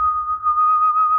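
A single steady whistled tone is held for just over a second, clear and fairly loud, with faint low background noise beneath it.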